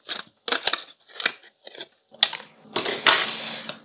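Scissors snipping around a small paper cutout of a glass for a bullet journal page, several short crisp cuts in irregular bursts, close and clear, with no talking.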